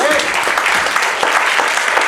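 A church congregation claps together in a dense, steady burst of applause that holds at an even level throughout, close and loud, with no talking over it.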